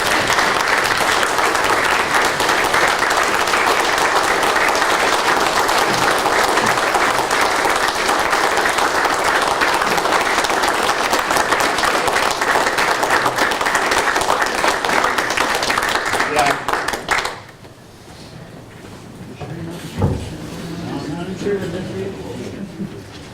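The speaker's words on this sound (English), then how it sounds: "Gary, certainly a round of applause, please, if you can." Sustained applause fills the room at a Wood County board meeting, dense steady clapping for about seventeen seconds before it cuts off into a quieter hall where a voice speaks.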